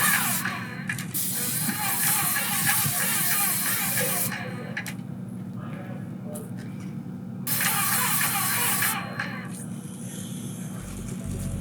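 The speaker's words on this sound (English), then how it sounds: "We're just going to be going around spraying." Steady high-pitched hiss of an airless paint sprayer runs in long bursts, stopping briefly between passes, close and fairly loud.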